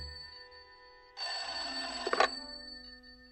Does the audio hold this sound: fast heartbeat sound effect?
no